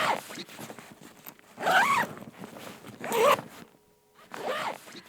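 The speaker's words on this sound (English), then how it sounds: "That's the sound of a zipper." Clothing zipper pulled three times, each a quick rasping zip of about half a second with short quiet gaps between, close and clear with no talk.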